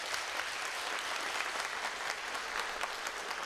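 Audience applause at a dance concert, a dense, steady wash of clapping from a crowd that holds at an even level throughout.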